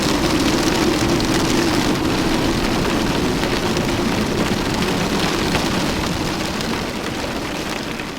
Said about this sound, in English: the silence is drowned out by a fierce hail